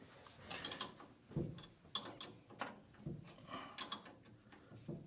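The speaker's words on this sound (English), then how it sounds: "Now to tighten up the lock nut." A wrench tightens a lock nut on the steering shaft of a 1986 Dodge D150 pickup. Close, quiet metallic clicks and ratcheting scrapes repeat in short irregular bursts, with no talking.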